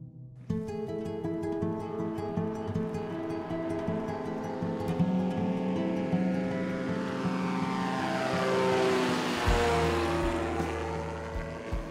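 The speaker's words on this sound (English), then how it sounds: "we were watching the plane just buzzing around the island" A propeller plane drones steadily as it buzzes around an island in Raja Ampat, its engine tone rising and falling as it passes, loud and continuous with no talking.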